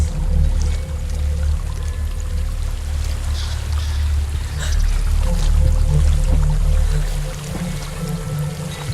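Steady broadband rush of a waterfall in the dark fantasy game Hellblade: Senua's Sacrifice, a continuous pouring roar with a low rumbling undertone that holds loud throughout with only slight swells.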